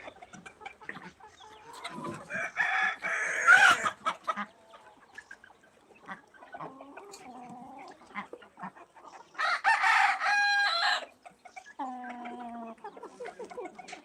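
Several free-range village chickens cluck and squawk nearby in bursts while drinking water, with a rooster crowing partway through; busy farmyard sounds with ducks kept nearby, no talking.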